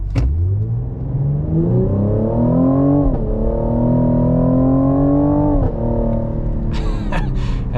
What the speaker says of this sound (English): listen to the shifts from that 10-speed automatic